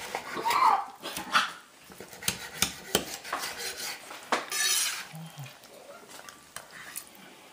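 Dogs bark in sharp, repeated bursts close by while a prime rib roast is carved, with clinks of knife and dishes between the barks.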